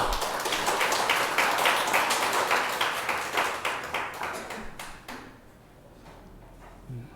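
A church congregation claps together at a Sunday worship service, a dense burst of hand claps that stays strong for about five seconds and then thins out and fades into quieter room sound.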